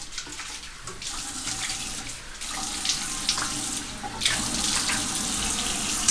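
A tap runs steadily into a sink for washing the face, a continuous close hiss of flowing water with slight shifts in intensity and no speech.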